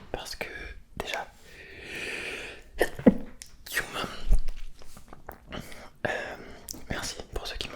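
A single sneeze stands out amid soft whispering and close-mic mouth sounds in an ASMR tasting of cat kibble, with brief crunchy bites and breathy noises scattered around it.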